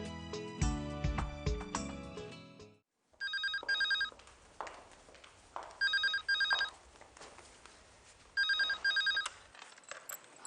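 A telephone rings in bursts of repeated electronic trills, separated by short pauses across the clip, after a loud stretch of music at the start.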